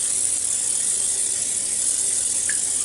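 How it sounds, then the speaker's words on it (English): A pump-up sprayer mists olive oil onto a steak as a steady, close hiss of spray that continues evenly without pause. "I got my pump up sprayer here with some olive oil in there. I'm just going to spray a little bit on here."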